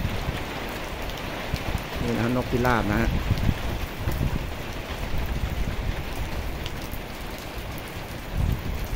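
Heavy rain pours down steadily, a dense hiss throughout, while someone speaks briefly early on.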